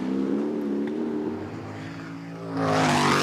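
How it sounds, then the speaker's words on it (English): A McLaren M8F Can-Am race car with a huge 8-litre Chevrolet engine passes at a timed hillclimb shootout, a deep droning engine note swelling louder and rising in pitch as it nears, with no talk. "Huge 8-litre Chevrolet Can-Am monster."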